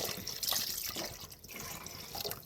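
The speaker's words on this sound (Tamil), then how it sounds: "இப்போ ரசத்துக்கு தேவையான அளவு தண்ணி சேர்த்துக்குவோம்" Water splashes and gurgles as it is poured into a pot for rasam, a steady running pour with dripping, close by and fairly loud.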